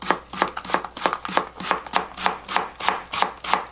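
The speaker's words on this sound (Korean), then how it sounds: "나박나박하게 썰어 주겠습니다." Knife chopping radish into thin square slices on a cutting board, a rapid even run of about a dozen crisp chops in a steady rhythm, close and clear with no talking.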